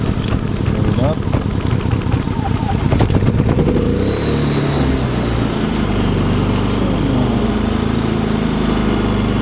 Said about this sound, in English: Sounds like every other generator they have.